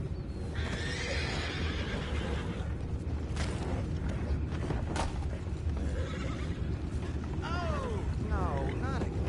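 Horses neigh and whinny in the game Red Dead Redemption 2, several rising calls near the end over a dense bed of hooves and ambient noise, with some background voices.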